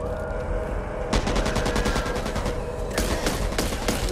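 Rapid bursts of submachine gun fire in the zombie shooter Back 4 Blood, loud and close, with a long sustained volley followed by a shorter burst after a brief gap, over constant game background noise.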